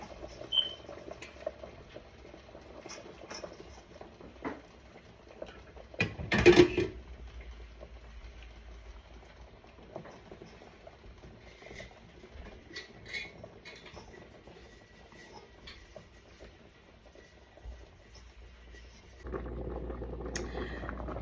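Pumpkin dumplings go into a pot of simmering water with coconut cream, giving a faint, steady bubbling and light patter, with one louder splash and clatter early on.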